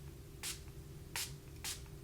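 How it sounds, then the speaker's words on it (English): Three short, fine hissing bursts of a setting spray misting from a bottle, spaced about half a second apart, close and fairly loud against a quiet room hum. "What is it with setting sprays lately? This is very aggressive, a very fine mist"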